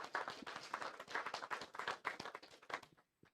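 A crowd at a Juneteenth panel discussion applauds with steady, dense clapping for about three seconds, then the applause cuts off abruptly into silence.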